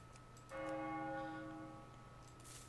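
A chiming bell from the Hearthstone game interface rings once at medium loudness, its tonal harmonics sustaining and fading over about a second with no voices.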